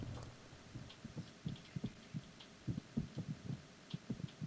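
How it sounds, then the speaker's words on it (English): Faint, muffled heartbeats throb in an irregular series of soft low thumps in Metal Gear Solid 2, over a quiet hissing background with light ticks. "we can already hear everyone's heartbeat"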